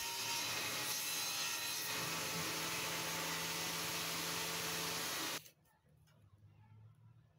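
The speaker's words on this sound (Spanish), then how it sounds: "lo que voy a hacer es escuadrarlo y cortarlo a 20 centímetros para formar un cuadrado perfecto" A phenolic plywood board being sawn to size, a steady rasping cut running continuously for about five seconds and then stopping abruptly, leaving faint workshop noise.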